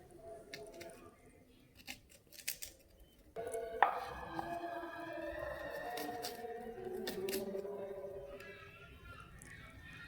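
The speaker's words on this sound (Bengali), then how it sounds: "এখন একটা পেঁয়াজ আমি কেটে নেব চার টুকরো করে" A knife cuts a peeled onion into four pieces: a few sharp, crisp cutting clicks near the start, then a voice speaking over faint kitchen handling noise.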